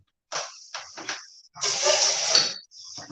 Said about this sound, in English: I'm going to rinse this just a little bit